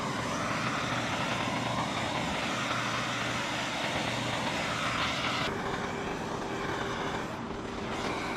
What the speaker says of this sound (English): I'm just gonna hit it with a MAP gas torch for a good while